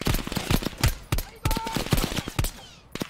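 Rapid gunshots in Call of Duty Black Ops Cold War, with a staccato string of sharp cracks in uneven bursts, fairly close and punchy, plus a brief tonal ring partway through.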